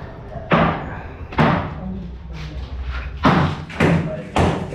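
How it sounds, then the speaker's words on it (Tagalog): Demolition hammering on part of a bathroom wall inside a house: heavy, irregular thuds and crashing knocks repeating every second or so, loud and reverberant, with rubble rattle between blows. "tinitibag na dyan yung isang bahagi ng part ng CR"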